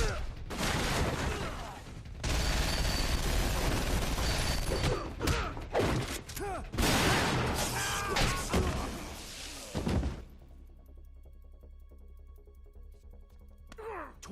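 A machine gun fires about 20 rounds a second in a Batman story, A Death in the Family, loud sustained bursts broken by short gaps before the firing cuts off and leaves a quiet hum, with talk in places.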